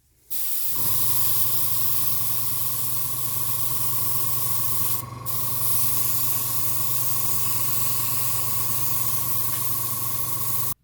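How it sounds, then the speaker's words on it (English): An airbrush sprays paint onto a model kit sprue in one long, steady hiss, starting and stopping abruptly with a brief pause midway. "I'm just going to spray that just directly onto the sprue as before."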